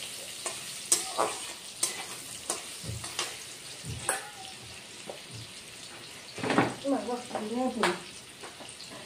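Potatoes fry gently on low heat in a pan for a vegetarian jackfruit dish: a soft, quiet sizzle with intermittent scraping stirs and clinks, and a brief pitched sound near the end.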